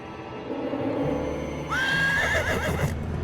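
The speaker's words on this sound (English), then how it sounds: "Stephen, could I possibly borrow a horse" A horse lets out a loud, close whinny lasting about a second, with soft hoof clops beneath and a low background rumble.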